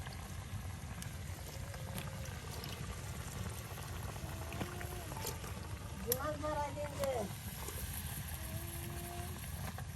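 Bottle gourd curry with shrimp and small taki and puti fish bubbles steadily in the pot, a soft, continuous low simmer with faint voices and background sounds over it.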